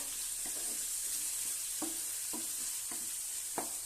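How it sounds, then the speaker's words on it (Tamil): Tomatoes stirred into sizzling chicken masala for Bangalore donne biryani, a faint, steady frying hiss under soft, repeated scrapes of a spoon against the pan. "அந்த 4 தக்காளியை இதில் போட்டுடலாம். நல்லா மிக்ஸ் பண்ணி விடுங்க."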